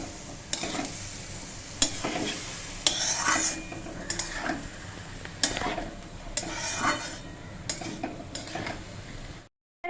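Rice, lentils, potato and cauliflower being stirred in a pot for soybean khichuri: a spoon scrapes and knocks against the metal every second or so over a soft sizzle, and the sound cuts off abruptly at the end.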